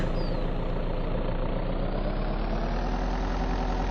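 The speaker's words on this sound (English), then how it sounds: "let's just take the truck." A truck engine idles steadily in the video game Vein, a loud continuous low rumble that holds constant from start to finish with no voices over it.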